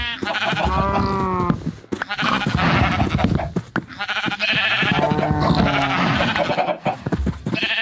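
Sheep in the Minecraft modpack Sevtech Ages bleat repeatedly, loud and close, with several overlapping wavering calls layered over game sounds.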